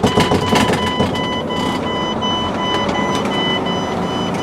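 A truck engine idles steadily inside the cab ahead of an air brake check, a loud continuous rumble with a few high tonal beeps and whines above it, and no talking.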